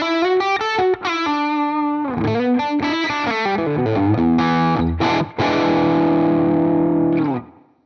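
Electric guitar played through an H and K crunch amp model on Tonex, darker and less fizzy, with quick picked single notes and chords that end in a sustained ringing chord and fade, no voices.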